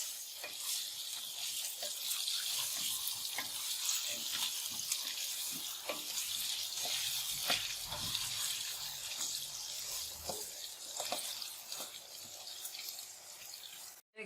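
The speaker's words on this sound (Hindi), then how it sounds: "इधर बिरयानी के लिए आलू फ्राई करने के लिए रख दिए।" Potato pieces frying in hot oil with turmeric and salt for biryani give a steady, close sizzle, with occasional stirring clicks and light clatter over the continuous hiss.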